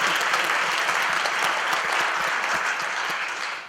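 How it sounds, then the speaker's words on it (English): Live-show audience gives Amy Capigioni another round of applause, a dense, even wash of clapping from a crowd that holds steady and then cuts off abruptly at the end. "let's have another round of applause for Amy Capigioni"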